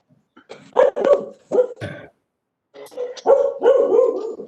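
Several dogs bark and yip in bursts over a phone or conference line, with two clusters of loud, close barking separated by a brief quiet gap.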